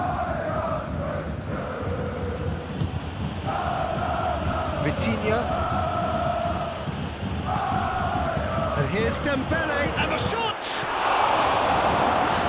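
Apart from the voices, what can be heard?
football stadium crowd cheering and applauding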